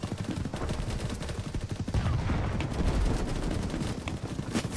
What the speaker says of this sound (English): Did you not hear the gunfire and wait and go,